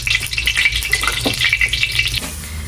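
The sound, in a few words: frying dough in a kazan cauldron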